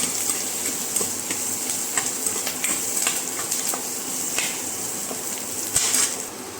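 Curry leaves and onions frying in a pan for masala dosa give a steady close sizzle, with light scrapes and clinks of stirring scattered throughout.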